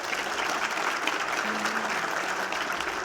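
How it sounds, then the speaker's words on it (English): An audience at a conference closing session gives a round of applause for the poster presenters, with dense, steady clapping from many people filling the hall at close range. "let's give one more round of applause to all of our poster presenters"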